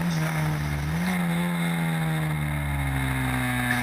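Historic Formula Ford single-seater race cars racing at Oulton Park, a steady loud engine drone with a sustained pitch that dips and rises as the car shifts and accelerates, continuous throughout.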